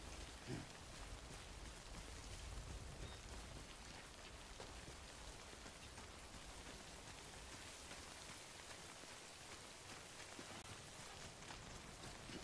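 Steady rain falls in the video game Death Stranding, a dense even hiss of drops on surfaces that holds at the same level throughout, with no voices over it.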